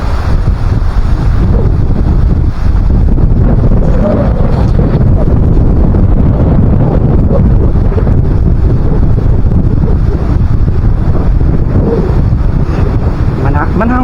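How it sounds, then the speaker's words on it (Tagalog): Strong wind blowing across the microphone at the seashore during low tide, a loud continuous roaring rumble with buffeting gusts that persists throughout with no clear speech. "Lakas ng hangin."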